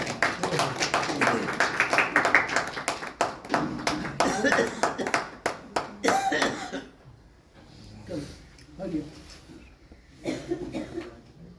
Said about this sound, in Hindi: तालियां तो बजती रहे।